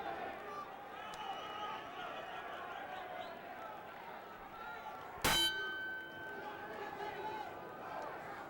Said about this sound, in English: The bell rings and away we go in the second round